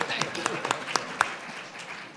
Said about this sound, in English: Hold your applause, everyone.